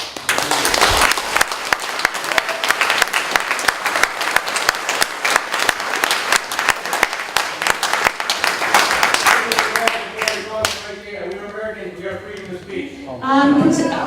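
Audience applause fills a town council meeting, dense sustained clapping from a crowd that thins out near the end as a voice begins speaking.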